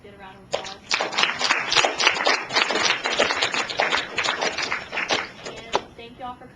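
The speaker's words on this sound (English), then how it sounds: "Get a round of applause." An audience at a town hall applauds its panelists with loud, dense clapping throughout, tapering toward the end.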